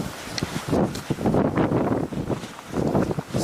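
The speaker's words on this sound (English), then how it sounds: "a lot of it also is likely just the windy conditions" Gusty wind blows outdoors on a marsh, surging and buffeting the microphone in uneven bursts, loud and steady throughout with no voices.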